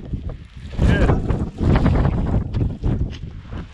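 Strong gusts batter the microphone on a winter mountain ridge along the Orla Perć route, roaring in heavy surges that rise and fall for a few seconds.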